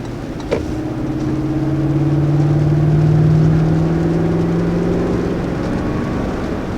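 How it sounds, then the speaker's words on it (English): A 2020 Lexus GX 460 SUV with a 6-speed automatic pulls away with a steady, smooth engine drone. Its pitch climbs gradually while road noise builds, then eases off again. No one speaks. "This is very much a truck that accelerates on its torque."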